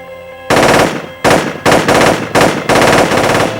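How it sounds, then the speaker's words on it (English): Assault rifle fire erupts in loud, dense automatic bursts, roughly four or five long strings of rapid shots separated by brief pauses, close and harsh with no voices. "A man wielding an assault rifle fires 110 rounds"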